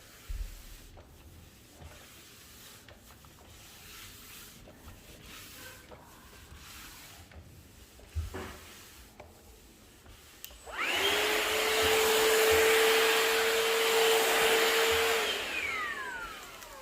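A Shark VacMop vacuum mop runs across a floor near dog dishes after quieter rubbing and clicking handling sounds, its motor kicking in with a loud, steady whining roar for several seconds before winding down.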